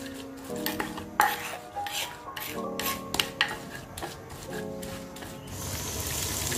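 Spice paste for chicken soto is stirred and sautéed in a pan, a spatula scraping and clattering against the metal in irregular strokes over a soft, steady sizzle that swells toward the end.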